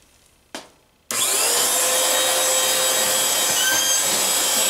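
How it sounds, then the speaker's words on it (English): A vacuum cleaner switches on with a sudden loud onset and runs steadily, close and continuous, while cleaning a bird cage, after a brief knock or click just before it starts. "And you vacuum like where you can get to."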